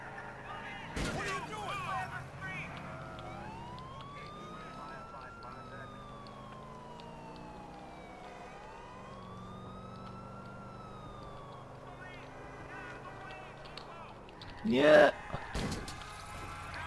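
A police car siren in Grand Theft Auto IV rises and falls steadily over a low engine hum, fairly quiet, with a couple of sharp knocks near the start and end.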